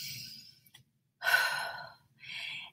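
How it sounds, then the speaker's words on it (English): A deep breath drawn in and let out, two close, clear breath sounds after a brief softer one, heard alone in a quiet room during a calming exercise. "Take a deep breath in."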